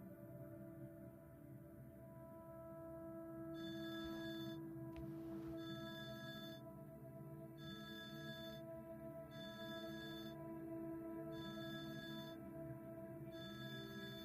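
A telephone rings in repeated bursts with short pauses between, heard faintly over a steady background hum.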